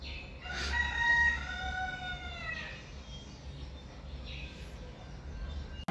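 A rooster crows once, fairly near and clear, a long harmonic call rising then trailing off, followed by quieter background noise and a faint second call.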